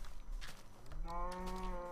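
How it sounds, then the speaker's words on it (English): A cow moos in Minecraft, one drawn-out, tonal low call rising from game ambience in the second half, fairly close and alone with no talk over it. "Did a freaking cow get out?"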